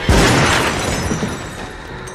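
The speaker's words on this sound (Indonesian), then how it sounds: "Kesempatan itu langsung diambil Pearl dengan menembakkan shotgun milik Howard." A shotgun fired in the 2022 film X, a single loud blast right at the start followed by a long rumbling, reverberant decay.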